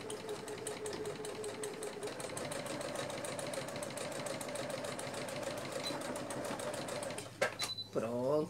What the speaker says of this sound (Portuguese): vamos costurando aqui